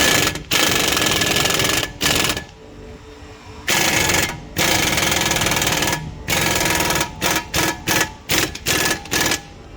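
A 32 mm CV axle nut on a 2014 Ford Explorer is run down with an impact wrench, loud long rattling bursts followed by a series of short quick hammering pulses, close and without speech.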